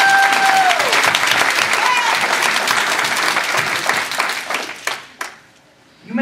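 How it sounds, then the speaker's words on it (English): Applause from an audience at a Toastmasters district conference during a speech evaluation contest, a dense, loud round of clapping with voices mixed in, lasting several seconds before it abruptly dies away. "Let's give her a round of applause."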